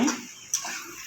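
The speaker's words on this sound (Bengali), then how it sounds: "জলটা দিয়ে দেবো।" Water poured into a cooking pan of partly fried potol (pointed gourd) for a potato and prawn curry, a short splash and hiss near the start, with a brief second burst midway, close and fairly soft.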